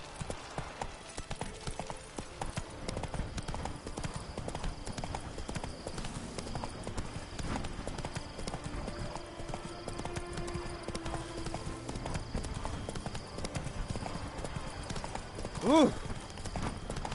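Hooves clip-clop in a fast, steady galloping rhythm in The Witcher 3, set against continuous game ambience, with a brief horse whinny near the end.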